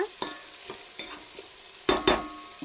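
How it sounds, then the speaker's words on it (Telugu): Green chillies and tomato are stirred in a hot pan for biryani, a low sizzle punctuated by several quick, close scraping strokes of a spoon, loudest near the end, with no voices. "వేసేసుకున్నాక బాగా ఒకసారి కలిపేసుకోండి"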